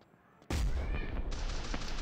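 Gunfire in the video game Rope Hero Vice Town erupts abruptly after a short quiet lead-in and keeps going as a loud, dense, continuous burst of shots to the end.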